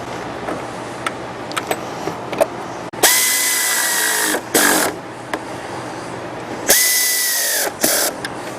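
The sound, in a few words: power tool driving in two bolts on a water pump shroud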